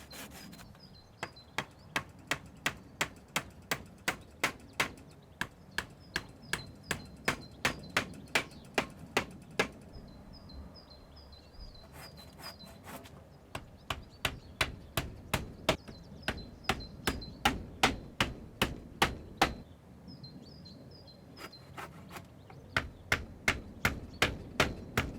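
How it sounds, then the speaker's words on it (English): Steady hammering of nails into timber battens fixed to timber verticals on a polytunnel side rail, heard as bursts of sharp, evenly spaced close blows separated by short pauses, with no voices. "Nail 2 timber battens to each timber vertical to fix the net and the end panels."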